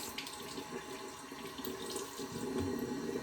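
Running tap water splashes steadily into a sink as a face is washed, a continuous close hiss and patter with small shifts as hands move through the stream, with no talking.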